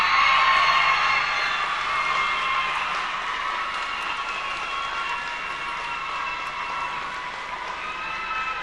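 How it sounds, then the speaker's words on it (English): Sustained clapping from an audience at an all-Ireland youth talent final greets a competition winner, dense and even throughout, easing slightly toward the end with a few whoops in the mix. "A big round of applause, please, for Anna Shine from St."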